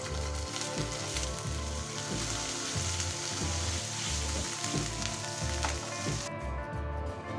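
Paneer pieces fry in hot ghee in a pan, giving a loud, steady, close crackling sizzle that runs throughout, with a low rhythmic thumping underneath and no voices.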